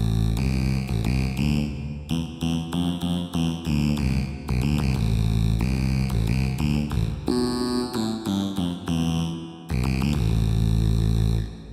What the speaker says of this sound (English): I'm going back to the reverb.